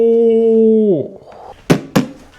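A toy balloon, one of hundreds being inflated in a room, bursts in a sharp loud pop after a steady squealing tone from air escaping fades out, followed by a second similar bang shortly after.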